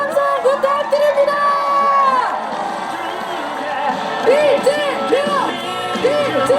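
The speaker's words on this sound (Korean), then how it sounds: "우리 기회번 이재명 후보에게 다시 한번 뜨거운 박수와 함성 부탁드립니다." A crowd at a Lee Jae-myung presidential election rally near a Seoul bus terminal cheers and shouts loudly, with rising whoops and rhythmic yelling layered over a dense mass of voices.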